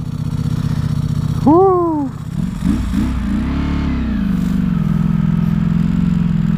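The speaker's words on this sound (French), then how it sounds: "Oh, ce bruit d'embrayage." Ducati Streetfighter V4 SP idling with its dry clutch rattling, a low steady mechanical clatter and engine hum close by, briefly interrupted by a man's exclaimed vocal sound.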